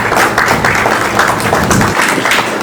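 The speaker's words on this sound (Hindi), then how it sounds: "इनके लिए जोरदार तालियों से स्वागत।" A crowd gives a hearty round of applause welcoming Sunil Godara, continuous and loud, with dense overlapping claps sustained throughout without a break.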